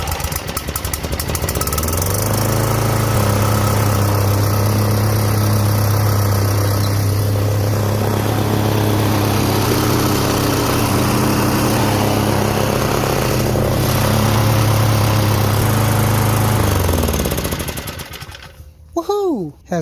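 A self-propelled lawn mower with a key start and fresh gas fires up and runs steadily at a loud, close, even drone for about seventeen seconds, then cuts off, with a voice briefly heard after it stops.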